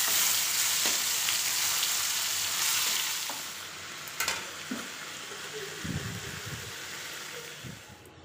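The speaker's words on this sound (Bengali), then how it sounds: "কচু আর আলু ভেজে" Taro and potatoes sizzle steadily in oil in a pan, a dense continuous frying hiss with a few stirring clinks and scrapes, close and fairly loud, no talking.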